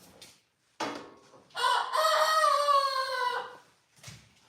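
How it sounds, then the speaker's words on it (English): A rooster crows once nearby, loud and clear, in a long drawn-out call of about two seconds, set against a few short outdoor noises before and after and with no talking. "Birds."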